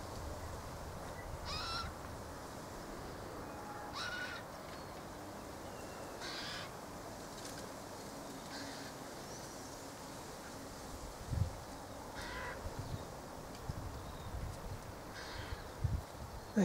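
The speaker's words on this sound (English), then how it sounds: "The white-winged choughs, a relative of the apostle birds." White-winged choughs call outdoors near a bird bath, giving a series of short, raspy calls about every two to three seconds over a soft, steady background hiss.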